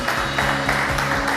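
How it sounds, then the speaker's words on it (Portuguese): Congregation clapping along during a worship service, steady continuous hand claps blended with music and singing throughout. "aplauda o Senhor dos Senhores"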